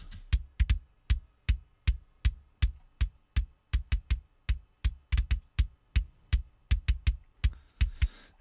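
Metal drum kit processed through Slate's VMR plugin with high and low boost and compression, heard as a fast, punchy run of kick and snare hits with cymbal wash, steady and loud, with no voices.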